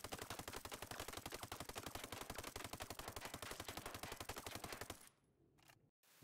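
A 416 assault rifle in Ghost Recon Breakpoint fires a long, rapid automatic burst of evenly spaced shots, loud and close, then stops abruptly, leaving near silence.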